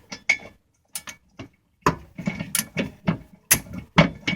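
Ratcheting clicks from a large torque wrench working on a Nissan 350z transmission mount, a series of sharp close clicks in short irregular bursts with brief pauses between.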